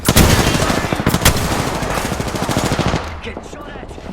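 Automatic weapon fire rattles in rapid bursts during an Apex Legends match, loud and close for about three seconds before cutting off into quieter game sounds.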